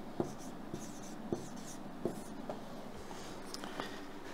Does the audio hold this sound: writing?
yes